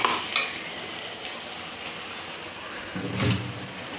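Onion, ginger and garlic paste frying in a pan with chicken, a soft steady sizzle with occasional stirring scrapes and a louder clatter near the end.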